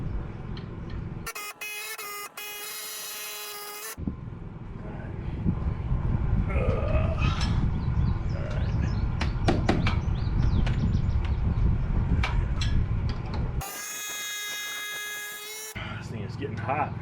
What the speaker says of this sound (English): it doesn't have enough torque to drive it in.